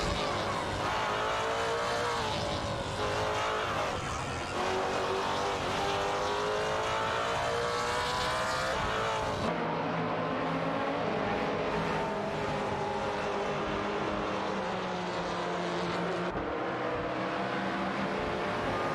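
Race cars including a Lotus Evora GT4 compete in a racing video game, their engines droning loudly and steadily with shifting pitch as they accelerate, rev and pass, with a sudden change of perspective partway through.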